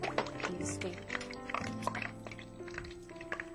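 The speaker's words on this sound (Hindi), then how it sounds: "एक दूसरी स्पून लेकर जो चाशनी है इसकी वो जलेबी के ऊपर डालेंगे।" Sugar syrup spooned over jalebi, with liquid drips and splashes close by amid clinks of the spoon and sizzling, while a person talks throughout.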